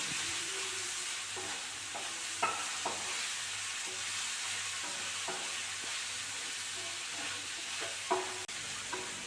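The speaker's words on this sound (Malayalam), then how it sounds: "മല്ലിപ്പൊടി മുളക് പൊടിയും അതെല്ലാം കൂടി ചേർത്ത് കൊടുക്കണം ഒന്ന് വഴറ്റിയെടുക്കാം" Onion, tomato, coriander powder and chili powder sautéing for a fish curry, a steady close sizzle with periodic scraping stirs of a spoon in the pan and a couple of sharper knocks.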